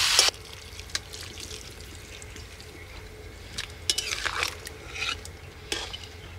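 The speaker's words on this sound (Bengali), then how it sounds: "এবার দিয়ে দেবো গরম জল।" Hot water poured into a pot of chicken curry cooking over a wood fire, with a sharp clank at the start, then soft sloshing, stirring and utensil knocks, fairly quiet and without speech.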